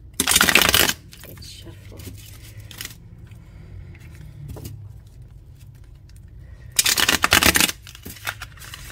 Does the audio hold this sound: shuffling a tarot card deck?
yes